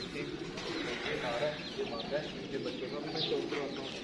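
Salary teddy pigeons cooing and calling in a loft, a steady low murmur of birds running throughout, with someone talking over them.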